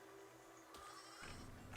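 A sheep in the game Besiege lets out a single short bleat, faint and alone against quiet background.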